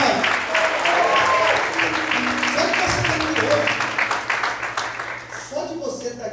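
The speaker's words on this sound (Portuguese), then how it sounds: "Você pode aplaudir a Deus, Senhor?" Church congregation applauding during a sermon, a sustained wash of clapping from many hands that slowly fades, with a voice speaking over it.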